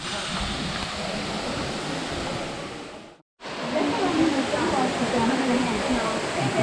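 Water at a cenote near Chichen Itza, a dense, steady rushing wash like falling or splashing water, loud and close, with one brief near-silent break midway and no clear speech.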